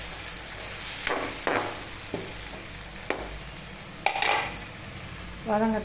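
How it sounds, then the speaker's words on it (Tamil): Onion, tomato and green chilli frying in oil for a crab masala, a constant soft sizzle punctuated by several sharp clanks and scrapes of a spatula against the pan, close up and without talk. "வெங்காயம் தக்காளி பச்சை மிளகாய் விட்டு எண்ணெயில் விட்டு வதக்குறோம்."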